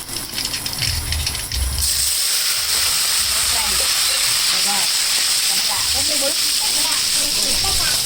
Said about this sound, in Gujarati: હવે વઘાર કરવાનો છે ટામેટા નાખી દો.